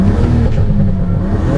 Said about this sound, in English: you can hear the turbos all the way and no rattle